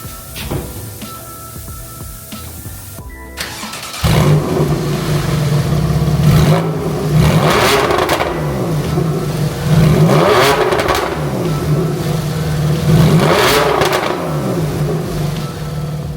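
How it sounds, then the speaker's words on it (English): A Porsche 911 Carrera 4S with a new exhaust revs loudly several times in rising and falling sweeps, a throaty exhaust roar after an initial idle, with no talking. "how's this thing sound now compared with these new pipes"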